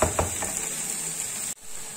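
Pumpkin halwa with khoya is stirred in a pan, with a soft steady sizzle and a few scraping stirs near the start before the sound cuts off abruptly.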